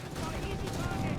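Aircraft strafing fire from US Air Force planes hits Italian and German troops in Company of Heroes 3, a dense continuous rumble of gunfire and explosions under a voice speaking throughout.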